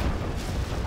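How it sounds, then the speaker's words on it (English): A rocket barrage fires in the real-time strategy game Generals Zero Hour, a brief, dense rumbling burst of launches and booms packed into under a second. "Rocket barrage, ready."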